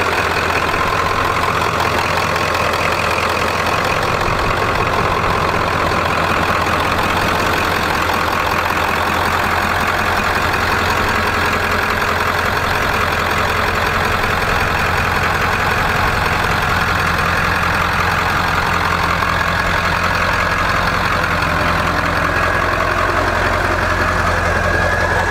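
A Ford PowerStroke diesel truck engine idles loudly and steadily, a continuous low rumbling throb with a faint knocking texture, unchanging throughout with no talking.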